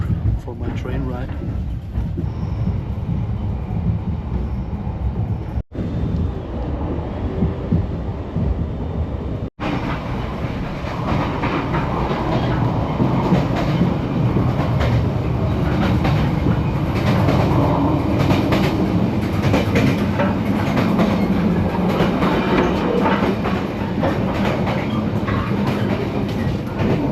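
A passenger train running on rails in Vietnam, with a steady loud rumble and rhythmic clatter of wheels over track throughout, heard from inside the carriage, with voices murmuring faintly beneath.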